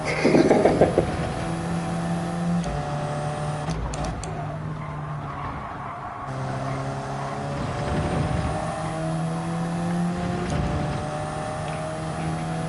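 Race car engine in Gran Turismo 7 at Watkins Glen Long, a continuous loud drone with rising and falling rev pitch through gear changes, a brief drop near the middle, and faint tire noise underneath.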